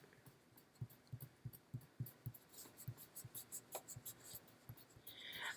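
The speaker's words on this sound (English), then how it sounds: "I'll just erase these." Pencil eraser rubbing back and forth on paper while making a Winter Olympics pop-up card, a quiet series of short scrubbing strokes in a loose rhythm, close up with no talk.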